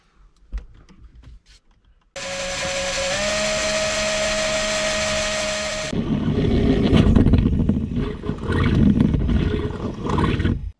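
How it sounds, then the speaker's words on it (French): A power drill bores through the sheet-metal roof of a Renault Kangoo van: a loud, steady high-pitched whine with a slight pitch shift, then a rougher, grinding cut as the bit bites through, set between quieter handling noises. "on va percer le toit pour faire passer les câbles et installer le passe-toit"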